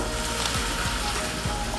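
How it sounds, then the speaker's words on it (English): Steady, loud sizzling of stonefish meat frying in hot oil, a continuous crackling hiss with no talking. "Sizzle, sizzle, sizzle."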